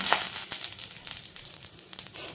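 Curry leaves crackle and sizzle in hot oil in a pan while raw turkeyberry thuvaiyal is prepared, giving a steady frying hiss with scattered sharp pops throughout.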